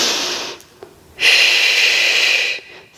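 During a reformer Pilates exercise, the instructor takes a short inhale, then gives a long, strong, breathy exhale through the mouth. It is close and loud, with a quiet pause between the two breaths.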